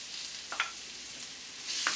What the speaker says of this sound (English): So the oil is heating nicely in the pan here. So what we do first of all is we add the chopped onion.